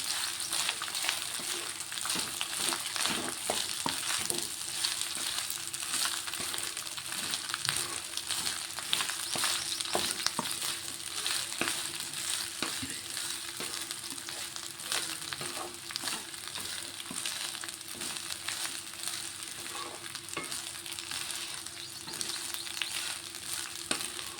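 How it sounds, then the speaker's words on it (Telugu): Leftover or freshly cooked rice being stirred and mixed in a pan with lemon tempering, a steady sizzle with continuous scraping and stirring throughout, close and even in level. "అన్నం వేసుకున్నాము ఇదంతా ఒకసారి కలిపిస్తాను"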